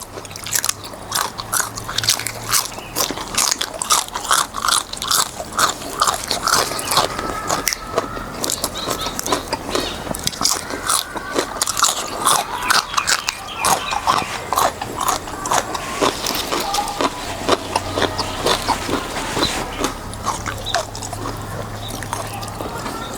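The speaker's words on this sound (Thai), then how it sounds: "หมูกรอบชาชูนี่ก็ โอ้สุดยอด นังกรอบเนื้อนุ่ม" Loud, close crunching bites of crispy pork chashu come in a rapid, continuous series, with crackly chewing throughout.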